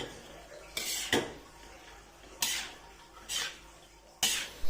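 A cabbage, meatball and mixed vegetable stir-fry being stirred in a pan, a few sharp metallic clanks and scrapes of the utensil against the pan standing out over a quiet background.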